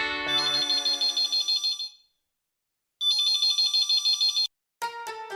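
Phone ringtone playing as a call connects: a bright electronic melody in two repeated bursts separated by a brief silence, then a short final burst, loud and clear with no talk.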